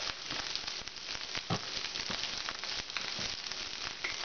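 Nasi goreng fries in a hot pan, a continuous close sizzle with crackling pops and occasional scraping strokes of the spatula, with no voices.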